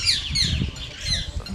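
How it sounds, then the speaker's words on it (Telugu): Parrots and other birds calling at the 15th-century Chitradurga Fort in the morning. Harsh squawks and chirps repeat several times, moderately loud, over low background rumble with no clear talking. "పొద్దునే క్లైమేట్, పక్షులు, చిలుకలు చూడండి ఫుల్గా ఉన్నాయి"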